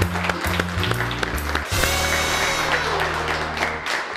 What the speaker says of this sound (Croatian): Drage prijateljice, hoćemo li zapljeskati?